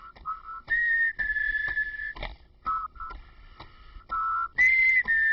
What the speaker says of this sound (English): Yes, they are whistling happy birthday.